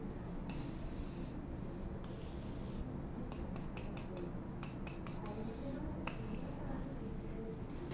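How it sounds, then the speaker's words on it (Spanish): Setting spray is misted on during a makeup routine in repeated short hissing bursts, some long and some quick, close to the microphone and fairly quiet, with no talking. "tapamos el micrófono y colocamos el setting spray"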